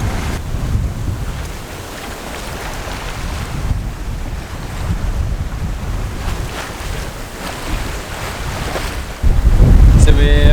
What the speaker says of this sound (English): We're just sailing past some islands, but we are a bit early, still obviously really dark